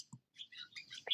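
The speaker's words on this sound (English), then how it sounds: "you can probably hear our lovely, friendly swallows" Swallows, including chicks awaiting food, chatter in a few quick high chirps and twitters, faint and fairly close, with brief gaps between calls.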